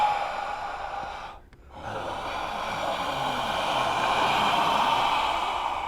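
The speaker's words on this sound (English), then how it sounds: "record all these inhalings and exhalings and turn that into a musical statement" Human breath recorded close in a Foley room, long loud airy exhalations and inhalations with a brief silent pause between them.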